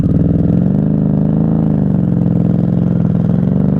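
Steady, loud engine drone of a 1994 Honda Magna 750 VF750C V4 motorcycle cruising on a highway at night, held at an even pitch with slight throttle swells, close and continuous with no talk.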